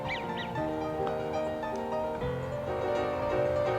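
Eurasian wigeon ducks call in a steady stream of whistling and honking notes, several birds overlapping close by, with no talk.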